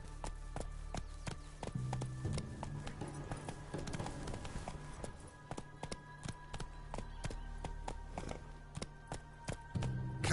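A horse in The Witcher 3 trots with a steady clip-clop of hoofbeats, fairly quiet and even, over a low constant hum with no voices.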